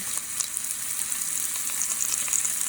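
Thyme sprigs sizzling in hot grapeseed oil, a steady, bright crackle and hiss with small pops throughout, fairly close and unaccompanied by voices.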